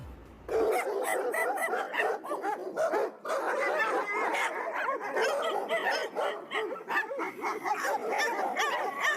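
Several dogs bark, yip and whimper together in a dense, continuous clamor, close and loud, with overlapping calls throughout and no speech.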